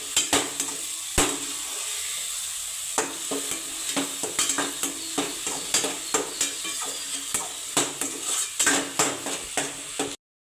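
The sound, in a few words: sautéing tomato paste in a pan for mutton kuzhambu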